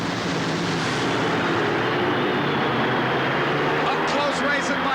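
Joe Amato's new, largely untested drag racing engine roars at a 1989 NHRA Fram Supernationals race, a loud, dense and steady blast that fills the whole stretch without letting up.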